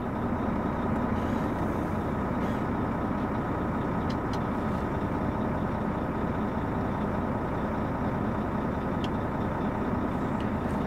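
A tractor engine runs at a steady idle, a low continuous rumble with a faint mechanical rattle and a few brief clicks, close and unbroken.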